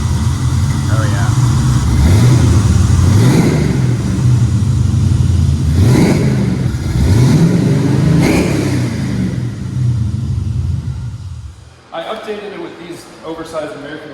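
A custom 1967 Camaro running Holley HP EFI idles loudly close by, its engine swelling in repeated revs that rise and fall, with voices talking over it and the rumble dropping away near the end.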